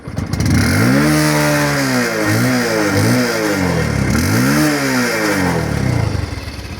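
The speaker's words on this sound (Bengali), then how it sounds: "তো এটাই হচ্ছে ডিসকভারের সাউন্ড" A Bajaj Discover 125 motorcycle engine runs close by, revving up and down in repeated swells over a steady idle, loud and alone with no talk.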